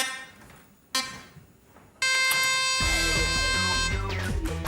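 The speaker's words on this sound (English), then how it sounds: "Here come the beeps." A few sharp electronic beeps ring out at a steady pace, then a loud sustained sound with tonal bands and rhythmic low thuds takes over.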